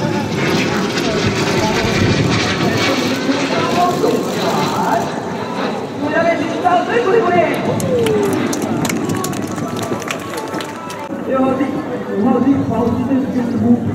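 Fighter jets roar past at the 2017 Hualien air force base open day airshow, a broad, sustained engine rumble at a distance, with an announcer talking over a public address system throughout.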